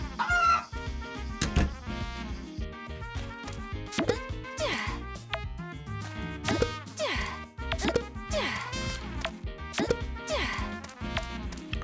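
Chickens cluck inside the farming game Story of Seasons: Pioneers of Olive Town, the clucks set against a busy, continuous musical soundtrack that runs loudly throughout.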